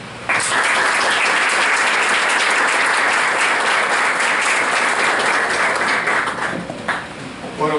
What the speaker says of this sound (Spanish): los recibimos con un caluroso y afectuoso aplauso